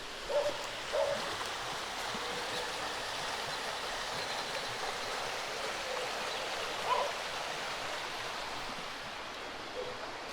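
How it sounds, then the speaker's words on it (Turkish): A steady broadband rush of a flowing creek in green countryside near Gönen, continuous and fairly soft, with a few faint high chirps scattered over the water noise. "Çok güzel bir dere var."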